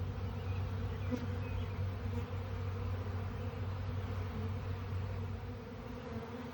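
A dense swarm of bees clustered on a six-foot T-post buzzes steadily and continuously, a thick droning hum that fills the whole clip without pause.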